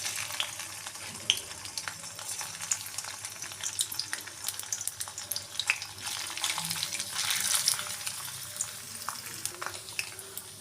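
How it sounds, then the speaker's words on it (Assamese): Paneer pieces fry in hot oil in a pan with a continuous crackling sizzle, scattered sharp pops, and brief stirring scrapes. "প্ৰথমতে মই পনীৰকেইডোখৰ অকণমান ভাজি ল'ম।"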